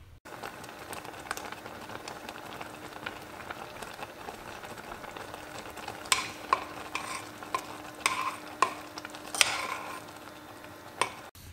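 Stirring soup in a cooking pot, with soft scraping and clinking of a utensil that grows sharper and more frequent toward the end, heard alone against a quiet, steady background hum.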